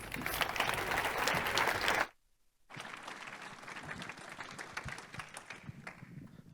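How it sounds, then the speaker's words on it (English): Audience applause at a panel event on responsible meat, a dense, steady clapping that breaks off for a moment of silence, then resumes at a slightly lower, even level until it fades. "Please give them both a round of applause."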